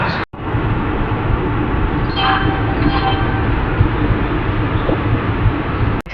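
A saffron-coloured Vande Bharat train rolls past on the railway, heard from aboard a special passenger train hauled by a WAG-9 locomotive, a loud, continuous rumble and clatter of wheels on rails that runs unbroken throughout.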